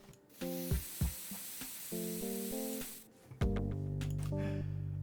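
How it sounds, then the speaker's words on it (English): Spray paint hissing in a video game as a wide area is coated, a long continuous loud hiss mixed with electronic tones and chiming notes, followed by a deeper humming drone. "suddenly you're spraying a huge area."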